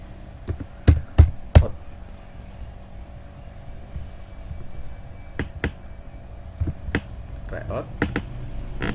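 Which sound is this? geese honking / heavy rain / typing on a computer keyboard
typing on a computer keyboard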